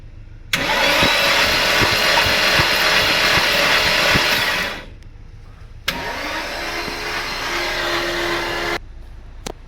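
A car engine cranks and catches during valve cleaning work, running loud and steady for about four seconds, cutting back, then cranking and running again before stopping; no voices.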